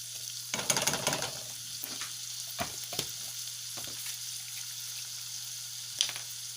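Garlic fries in a pan with a soft continuous sizzle, punctuated by a few sharp stirring clatters and taps, over a low steady hum.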